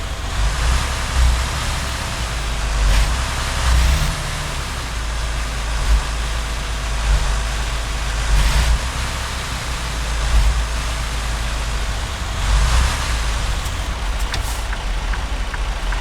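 A heavy truck engine in American Truck Simulator drones steadily as the rig pulls out and drives off, a continuous low rumble with brief hisses and clunks of air brakes and gear changes.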